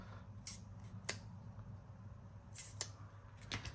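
Scissors snip along the edge of a textured floral aperture card, several crisp isolated cuts spaced across a quiet room.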